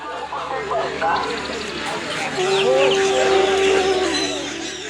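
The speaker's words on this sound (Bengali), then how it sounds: "এখন চলে আসলাম হাঁস মুরগির বাজারে। দেশি, সোনালি, ফাউমি মোরগ পেয়ে যাবেন এবং দেশি হাঁসও পাবেন এই বাজারে।" Chickens and roosters at a busy village poultry market in Sylhet that also sells ducks, with scattered clucks and one drawn-out crow rising over a loud crowd of talking voices and market bustle.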